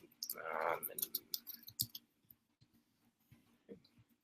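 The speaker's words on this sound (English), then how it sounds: "Guys probably hear me typing and everything." Computer keyboard typing, a quick run of light clicks and taps close by, fading to sparse keystrokes; a faint whisper-like breath sits under the start.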